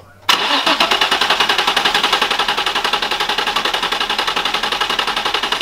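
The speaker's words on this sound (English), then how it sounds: "you need to do the wide open throttle as you're cranking it." A Nissan VQ engine in a G35 or 350Z cranks at wide open throttle during a compression test, starting abruptly into a fast, even, loud run of starter-motor pulses that continues steadily to the end.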